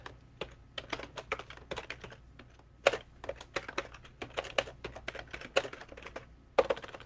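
Rapid typing on a computer keyboard, close and fairly quiet, with irregular bursts of keystrokes and a few heavier key presses over faint background hum.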